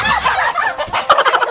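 A native chicken clucks and squawks loudly up close in rapid, agitated bursts as it is being caught for tinola.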